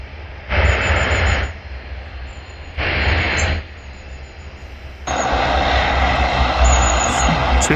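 A heavy airliner takes off using the full runway at an airport viewing park, its engines roaring loudly and steadily, in strong pulsing surges with wind buffeting the microphone.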